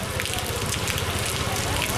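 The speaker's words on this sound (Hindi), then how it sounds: "इतनी बारिश गलियों के अंदर नदी नालों में हो गई है" Heavy rain pours down and floodwater rushes through the streets of Jalore, making a loud, dense wash of splashing and gushing, with a voice talking over it.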